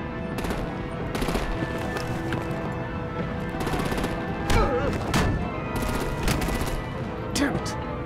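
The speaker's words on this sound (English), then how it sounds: "Break out the artillery and disable their vehicles!" Rapid gunfire aimed at vehicles during an action scene in the game Batman: The Enemy Within, with bursts of sharp cracks in irregular clusters over a steady background rumble, moderately loud and without talk.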